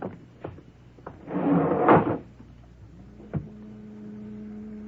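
Elevator effect in a radio drama: a sliding door rumble followed by a click, then a steady mechanical hum as the car starts to move, all without talk.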